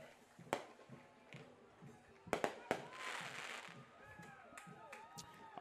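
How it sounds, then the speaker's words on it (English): Fireworks burst at an outdoor high school football game, sharp cracks and pops going off irregularly at a distance amid faint crowd noise, with several loud bangs clustered together. "There's fireworks going off."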